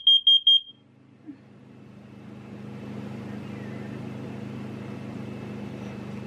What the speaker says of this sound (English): This is only a test. Testing smoke. Testing carbon monoxide.